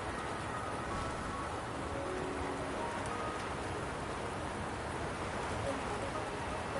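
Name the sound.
rain falling in the video game Wuthering Waves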